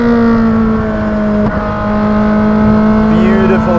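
Ferrari supercar engine, likely a 458 Speciale or 488 Pista, held at a loud sustained high-rev pitch on an open road in South Africa, with a brief gear-change blip midway before the steady drone continues.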